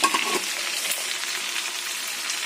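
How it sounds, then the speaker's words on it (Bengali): Coriander-flavoured food fries in a pan, giving a steady, close hiss of sizzling oil with a few faint stirring scrapes near the start and no talk. "এইভাবেই এটা ভেজে তুলে নেবো"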